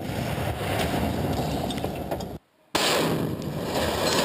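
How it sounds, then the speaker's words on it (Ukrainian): A car blown up by an improvised explosive device in a test detonation, heard as a sustained loud roar and rumble, broken by a brief silent gap before the heavy noise resumes. "Для визначення сили вибуху слідству довелося провести слідчий експеримент і підірвати 2 автомобілі аналогічними вибуховими пристроями."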